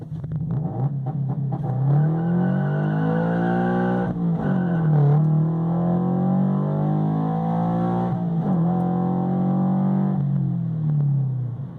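A car engine on launch control holds a loud, buzzy high rev around 4,000 rpm, dipping briefly twice before climbing back, sustained and close throughout.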